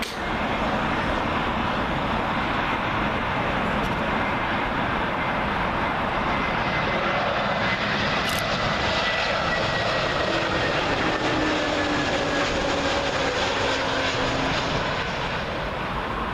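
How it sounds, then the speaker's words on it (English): A Swiss Air Airbus A320neo from Zurich, wobbling on its approach to Heathrow runway 27L, roars loudly overhead with steady broadband jet noise and a whining tone, sustained throughout with no talk. "Up next, Swiss Air A320neo. Woo, he's all over the place. He's arriving in from Zurich."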